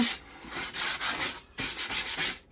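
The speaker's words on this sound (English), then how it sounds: "I think this is 120 grit sandpaper." Sandpaper of 120 grit rubbing along the edges of a panel in repeated close, rasping strokes, two bursts separated by a brief pause, with no talking.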